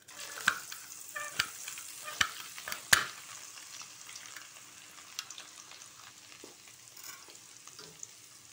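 Potato bhujia frying in oil on a low flame, a faint steady sizzle with several sharp clinks of a stirring utensil early on, close and quiet, no talk.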